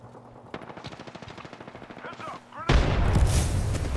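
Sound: grenade explosion in a video game

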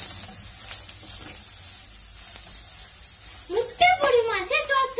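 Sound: stirring and frying spices in a pan

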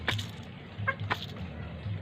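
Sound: chickens

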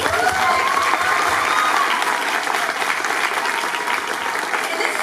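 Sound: convention panel audience applause

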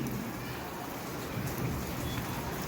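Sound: light drizzle rain on a terrace garden

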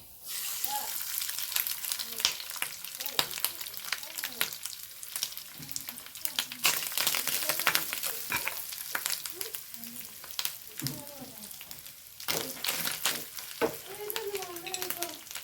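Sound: grated coconut frying in a pan for sambar

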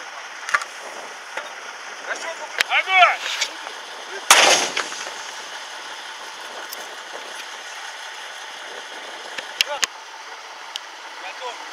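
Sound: artillery gun firing a high-explosive fragmentation round

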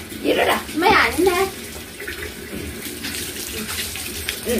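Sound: water poured while bathing dogs

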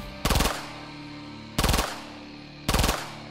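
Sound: Glock 18 machine pistol firing full automatic

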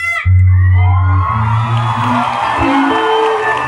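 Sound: crowd screaming and cheering for AJ Raval

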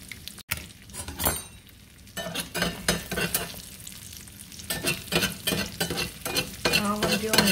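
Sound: frying egg and spam potato hash in oil

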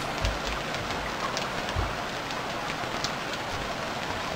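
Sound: rain in a video game

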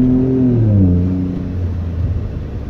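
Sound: car with turbo accelerating

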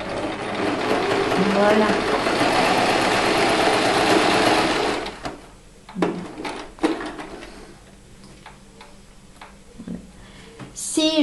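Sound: sewing machine stitching a curve

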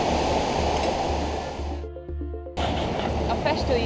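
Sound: waterfall rushing at Blagaj near Mostar, Bosnia

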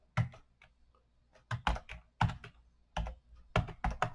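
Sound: typing on a computer keyboard

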